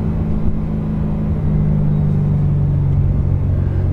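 A BMW E92 M3 fitted with American Racing headers putts along at low speed to warm up, its exhaust a steady close rumble with a constant low drone and no sharp revs.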